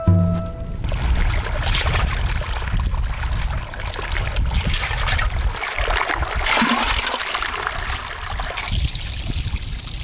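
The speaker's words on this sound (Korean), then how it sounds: "험준한 바위지대에 숨은 작은 개울에 도착했다" A small stream flows among rocks in a rugged stretch of the Gobi Desert, giving a steady, fairly loud rush and trickle of water that runs unbroken throughout.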